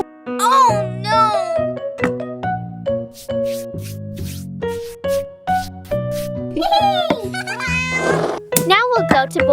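A cat meows again and again, rising and falling, alongside a voice and playful music-like tones.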